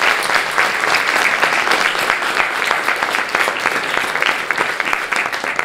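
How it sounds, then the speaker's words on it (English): Dense, steady applause from a large audience at a talk event, continuous loud clapping sustained throughout without a break. "please give them a big round of applause"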